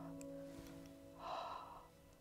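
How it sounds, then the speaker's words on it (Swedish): A single soft, breathy exhalation of warm air blown into cupped hands, rising and fading over about a second, close and fairly quiet over a faint steady background hum. "En övning för att hitta avspänning kan vara att du blåser varm luft i dina händer"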